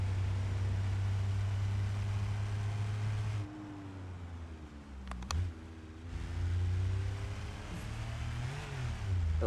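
Engine of a small car in a video game, steady mid-pitched hum that dips and rises as it overtakes a van, with a brief change in pitch mid-way and no talk.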